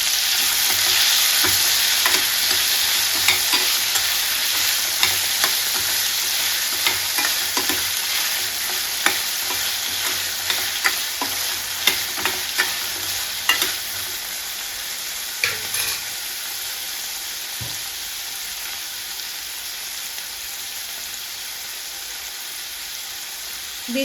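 Chopped tomato goes into a pan of frying onions for a curry, producing a continuous bright sizzle with frequent small crackles and occasional stirring scrapes, close and loud, with no voices.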